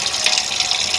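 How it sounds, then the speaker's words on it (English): Running water from a tap pouring steadily onto a dental stone mould to break its seal, a continuous close, loud splashing stream. "I'm going to use water to break the seal and a little knife."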